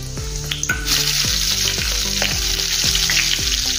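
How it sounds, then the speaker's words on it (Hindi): Cumin seeds and green chillies sizzle loudly in hot oil, a close, bright crackling hiss that swells as they hit the pan, with rhythmic knocks from a pan or utensil underneath. "अभी इसमें हम थोड़ा सा जीरा डालेंगे, 5 चम्मच के बराबर, और हरी मिर्च डाल देंगे अभी तुरंत"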